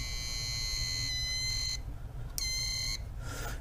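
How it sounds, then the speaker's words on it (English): A multimeter on its continuity setting gives off steady high-pitched electronic tones while testing an RV comfort control switch, sounding in a few separate bursts with short gaps, close and fairly loud. "I used my multimeter, and I put it on the continuity setting, which has a little noise to it."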